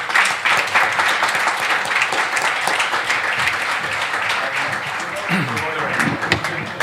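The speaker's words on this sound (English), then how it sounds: "please, big applause for my panelists" A conference audience applauds panelists after a session, sustained dense clapping from a large room that stays loud throughout, with a voice speaking over it.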